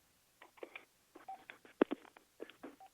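Telephone keypad tones during a phone call, a quick run of short beeps in irregular bursts, fairly close and clear with no voices over them.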